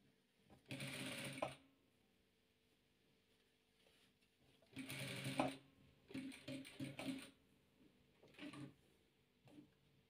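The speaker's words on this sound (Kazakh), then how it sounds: "Енді мына бұрышын тігіп жібереміз" Sewing machine stitching the corner of a quilted patchwork block, running in three or four short bursts of a few seconds each with quiet pauses between, close and clear with no talking.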